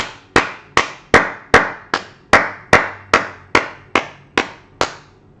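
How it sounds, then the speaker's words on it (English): Eleven slow, evenly spaced single claps from one person, sharp and close with quick decay, during a live trading stream; no talking. "Let's give him a round of applause."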